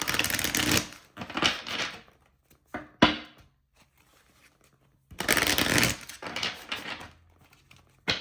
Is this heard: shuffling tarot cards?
yes